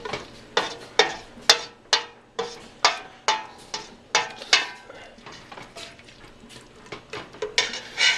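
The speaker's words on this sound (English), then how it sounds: "let me kind of stir my onions and stuff up with the wine" Onions and cooking wine are stirred in a pan, with a utensil scraping and clinking against it in a steady run of sharp, close strokes about twice a second, alone without talk.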